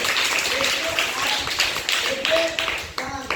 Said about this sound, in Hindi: बिल्कुल सही, जोरदार ताली बजाइए।